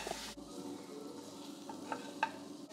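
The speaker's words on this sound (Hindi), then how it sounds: "अभी इसको इसमें ये मसाला डालेंगे जो बनाया था, and stir it for a while" A spoon stirs masala in a pan as coriander roasts for butter chicken, producing a soft low sizzle with a few faint scraping clicks, quiet and close, with no speech.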